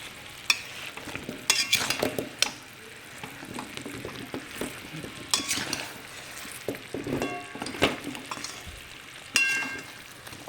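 Ghee-coated mixture of amla and jaggery stirred steadily in a pan, with soft sizzling and repeated scraping strokes of the spoon against the pan, moderately close and no talking.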